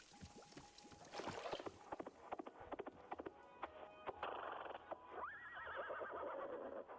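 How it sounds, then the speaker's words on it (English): A horse whinnies and its hooves clip-clop in the video game Wanderstop, a soft rising neigh near the end over light clattering and water-like ambience. "Oh, it's just horse noise."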